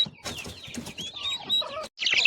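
Chickens, including two hens with newly hatched chicks, cluck and chirp nearby in a busy, overlapping chatter, with a brief pause before a louder burst of squawking.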